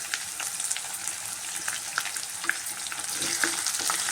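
Onions and curry leaves with dried red chillies frying in oil, a continuous close sizzle broken by scattered spatula scrapes and small pops.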